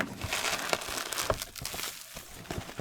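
Parcel packaging from a mailbag crinkles and rustles as it is torn open, close and continuous with sharper crackles and rips, moderately loud and with no talk.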